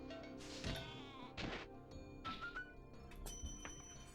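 A sheep bleats several times in the video game Spyro the Dragon, over a busy synthetic background with faint clinks and tones, the calls fairly close and clear.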